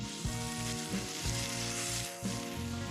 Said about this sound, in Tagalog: pinapainit ang kawali, at nagsisimula tayong magprito.